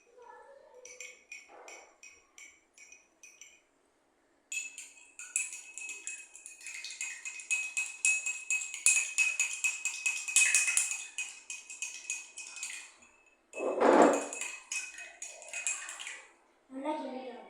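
Sugar being stirred in a pot, a spoon scraping and clinking against the metal in irregular bursts, close and moderately loud, with short pauses and a louder scrape near the end, no talk.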